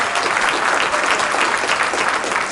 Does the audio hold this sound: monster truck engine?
no